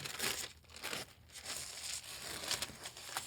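Protective paper is peeled off the screen of a new 16-inch MacBook Pro M2 Pro, giving a close, crinkly rustling with a few bursts and no talk.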